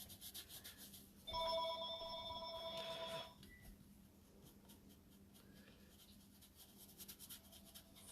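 A telephone rings once in a quiet craft room, a bright electronic trill lasting about two seconds, clear and fairly close over faint room noise.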